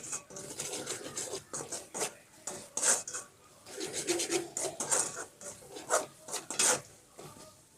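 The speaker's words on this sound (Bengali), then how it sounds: "এবার সব মশলা আমি আবারও ভালো করে কষিয়ে নেব" Spices being stirred and fried in a pan for a cow udder curry, with a metal spatula repeatedly scraping and rasping against the pan in uneven strokes, close and moderately quiet, without talk.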